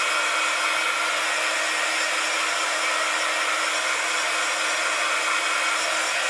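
Steady, loud hair dryer whir blowing over fresh paint, a constant airy roar holding unchanged throughout with no talk.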